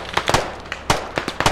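Gunfire in the tactical shooter Squad, a burst of sharp, close shots in an uneven rhythm over about a second and a half, standing out against quiet in-game ambience.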